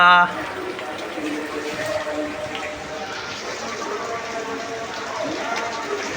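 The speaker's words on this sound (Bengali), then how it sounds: "তুমি ছাদের মধ্যে বৃষ্টিতে গোসল গোসল করতেছো" Rain falling on a rooftop, a steady close patter and wash of water with a person talking over it.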